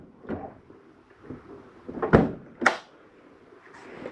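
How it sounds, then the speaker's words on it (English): A locking fridge door in a 2021 Entegra Reatta 37K motorhome is handled, giving several soft clicks and thumps, with one sharper clack near the middle and another shortly after, close by and fairly quiet. "Do you have a lock on your fridge door?"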